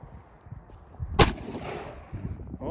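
A single sharp gunshot from a firearm cracks out close and loud, then trails off in a short echoing decay over a quiet, murmuring background.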